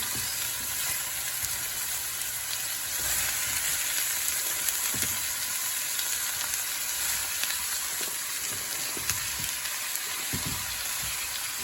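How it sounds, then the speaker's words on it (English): Onions sizzling and slowly caramelizing in a pan for Sicilian sfincione, a steady close hiss of frying with scattered soft pops and occasional stirring bumps, no talking. "I'm kind of going to caramelize the onions."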